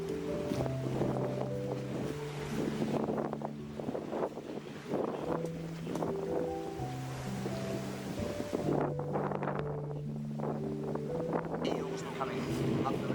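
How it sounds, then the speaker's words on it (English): Wind rushes and buffets across open water on the Norfolk Broads where classic yachts sail, a constant gusty roar with someone talking and music playing beneath it. "It's quite windy, as I say."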